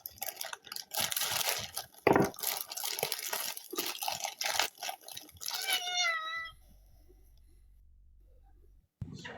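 A cat meows in a mobile video game, a single rising-and-falling cartoonish mew that follows a stretch of busy, noisy game sounds, then fades into a low electronic hum.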